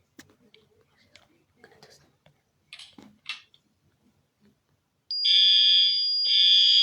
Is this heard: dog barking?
no